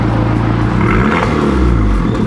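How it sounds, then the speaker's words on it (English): A 2015 car's engine revs hard up and down, a loud close rumbling roar with rising and falling pitch sweeps, heard from nearby with no talk over it. "You can give us some revs?"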